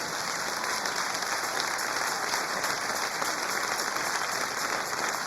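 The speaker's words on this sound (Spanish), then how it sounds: "Dale un aplauso al Rey en esta mañana." Church congregation applauding during a morning service, a dense, steady wash of clapping from many hands that stays even in loudness throughout, with no talk over it.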